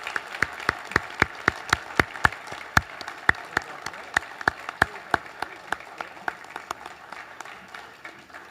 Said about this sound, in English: How about a round of applause for our new K9 program?